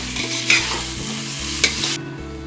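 Onions and tomatoes fry in a pan for a home chicken biryani and are stirred, giving a constant sizzle with two sharp scraping clinks of the spoon and no voices.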